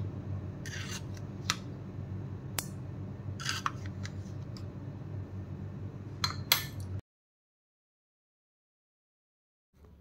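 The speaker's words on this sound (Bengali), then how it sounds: "এই যে টক দই মেশাচ্ছি এর সাথে" Sour yogurt is mixed into a hair mask paste in a bowl, with a steady soft scraping and sharp intermittent clicks of the utensil for about seven seconds, then silence.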